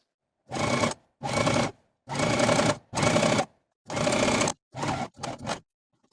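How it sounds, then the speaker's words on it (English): A cover stitch machine finishes the hem of a dress in seven bursts of steady stitching, with short pauses between runs and the last two bursts quicker and shorter, close and fairly loud with no talking. "I'm going to be using my cover stitch machine to finish this hem"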